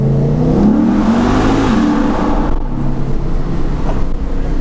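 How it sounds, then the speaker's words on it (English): A Lexus IS F V8 revs hard through aggressive, crisp downshifts, a loud, close, throaty roar that swells and dips with each blip across several seconds, with no talking. "Those downshifts sound really nice. They're very aggressive, they're super crisp."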